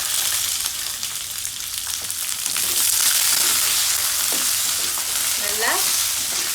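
Onions frying in a pan with curry leaves for a tomato onion chutney, a loud continuous sizzle with spatula scrapes and a few squeaky clinks toward the end, close up, no talk.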